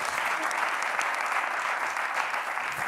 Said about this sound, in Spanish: Un aplauso para Kino.